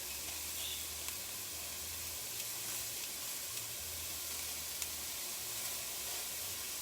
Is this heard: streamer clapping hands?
no